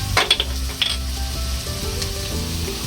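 Chopped onion sautéing in a little oil in a pan: a steady, close sizzle with a few sharp crackles and pops near the start, then an even hiss with a faint low hum beneath.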